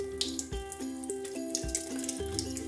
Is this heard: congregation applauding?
no